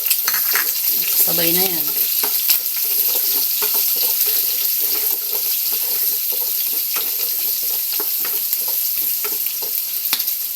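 Garlic and onion sautéing in a pan for pork binagoongan, a continuous close sizzle with scraping stirs and clinks of a spoon; a brief voice speaks early on.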